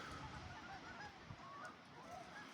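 Waterfowl honking and squawking at a lakeside with low water, a steady chorus of nasal calls at moderate distance over outdoor ambience, no talking.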